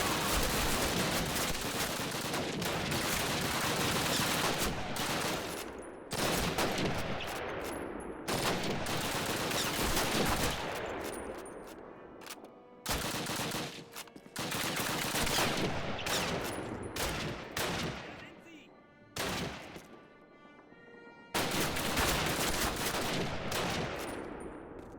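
Dense Call of Duty gunfire fills the scene, with sustained automatic bursts and rapid volleys that keep coming with only a few short breaks, loud and close throughout.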